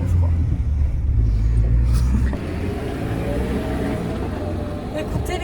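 A car pulls back into moving traffic on a holiday road trip to Argelès, its loud, low engine rumble and road noise steady throughout, dropping slightly in level partway through.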